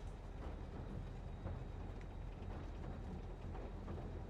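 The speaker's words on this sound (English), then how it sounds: "Something mesmerizing about just riding a train." Steady rumble of a train ride inside a zombie-survival video game, a continuous low rolling drone with faint clatter and no voices, even in level throughout.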